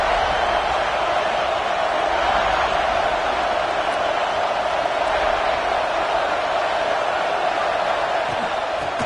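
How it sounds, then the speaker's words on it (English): A stadium crowd roars at a college football game, a loud, steady, distant wall of cheering that holds without a break. "The roar of the crowd trying to fuel this defense to keep them pinned in their own end."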